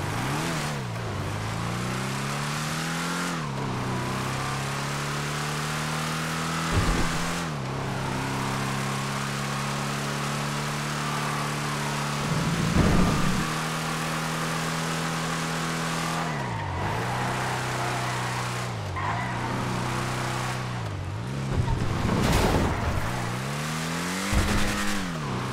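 Two-door sports classic car in a video game test drive, engine roaring loudly and steadily through repeated gear shifts, punctuated by several short tire skids and squeals, with no voices.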